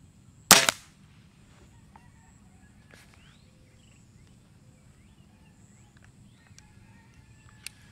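A Weihrauch HW 35e .177 break-barrel air rifle fires once, a sharp close crack that fades quickly into a quiet outdoor background with faint birdsong.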